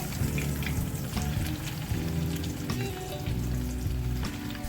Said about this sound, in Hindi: आपने इसको शैलो फ्राई करना है, हल्की आंच पे इसको फ्राई करना है।